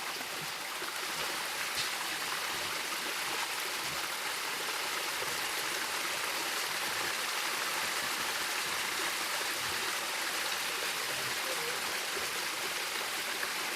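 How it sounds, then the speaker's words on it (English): A creek with a small waterfall runs through a gold-mining sluice box, a steady, even rush of flowing water that stays constant throughout, close and continuous with no voices. "Waterfall is waterfalling. The ripples are rippling. The sluice is sluicing."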